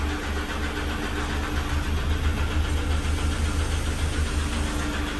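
A car from the mid-1990s turns over and settles into a steady, loud idle, its engine humming evenly and close by without any talk.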